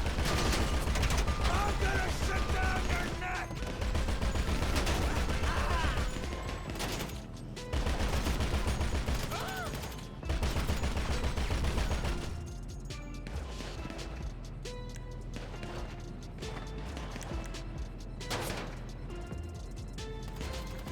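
Rapid bursts of gunfire from a shootout in GTA 5 Online during an armored Boxville special cargo mission, dense and loud over game music. The firing thins out toward the end.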